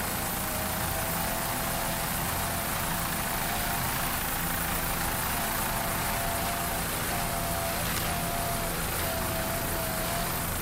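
A Mercury-powered 25-foot Warlock racing powerboat roars at full throttle during a Daytona Beach race, a loud, constant engine drone with broad wash-like noise and a faint rising whine.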